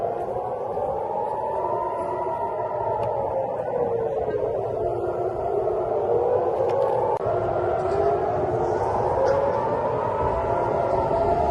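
Air raid sirens wail over Tel Aviv at night, the rising and falling tones sweeping continuously and loudly through the whole stretch, with a low rumble of background noise beneath them.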